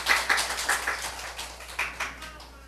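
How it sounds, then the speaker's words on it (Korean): A congregation claps during a church morning service, a quiet, uneven patter of hands that fades toward the end, with no talk over it. "하나님께 박수 올려드려요"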